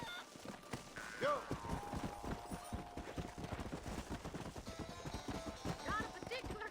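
Horse hooves clip-clop in a steady rapid gallop in the Red Dead Redemption video game, with a few distant gunshot-like cracks and brief voices over the running beat.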